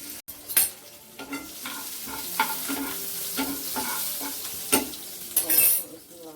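A tadka of green chillies, asafoetida and cumin sizzles in hot oil for a dish of black urad and chana dal. Continuous close frying hiss is broken by scraping stirs and occasional utensil clinks, with no voices.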